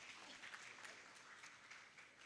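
Audience applause at a regional Girl Guides and Scouts conference closing ceremony, honoring the Brunei Darussalam delegation during a gift presentation; a steady, distant wash of clapping from a crowd, fairly faint and even throughout.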